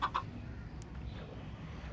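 A Minecraft chicken gives two quick, quiet clucks at the very start, then only faint game background remains.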